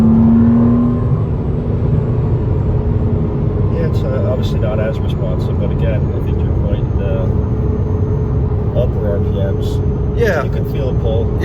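Inside a base-model Porsche Cayman, a steady engine drone under acceleration hums beneath two people chatting, with the revs rising smoothly and no sharp peaks.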